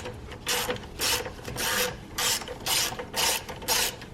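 Rhythmic ratchet clicking in repeated short bursts, about eight strokes in four seconds, as bolts on a Nissan Sentra battery hold-down are loosened with a ratchet wrench, close and fairly loud with no voices.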